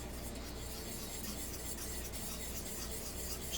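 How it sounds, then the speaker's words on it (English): Wet ingredients for homemade cornbread whisked steadily in a bowl, a continuous close scraping and rubbing with no break, alone without talk. "So let's whisk that around."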